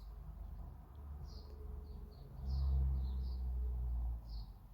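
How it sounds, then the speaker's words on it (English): A dawn chorus of birds chirps in scattered short calls, faint and distant, over a low rumble that swells partway through, with no talk. "you can still hear the dawn chorus going"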